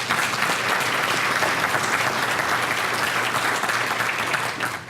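Sustained applause from a seated crowd at an awards luncheon, steady dense clapping that holds for the whole stretch and tapers slightly at the end, with no talk over it.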